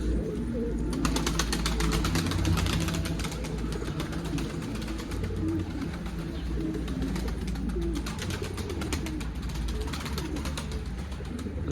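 Pigeons in a backyard coop giving low, continuous cooing that is close and steady, with fluttery rustling and soft chirps mixed in throughout.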